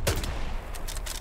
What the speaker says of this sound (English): I shot him in the butt.